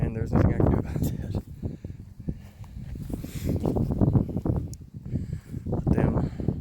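Strong wind in a township graveyard buffeting the microphone, a constant loud rumbling roar with gusts swelling and easing throughout, close and harsh.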